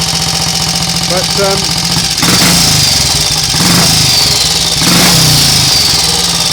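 A Triumph Scrambler Cub replica motorcycle engine runs loudly close by, surging in two or three revving bursts over a steady idle while someone talks over it.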